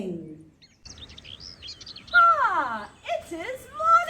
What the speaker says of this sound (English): The birds are singing.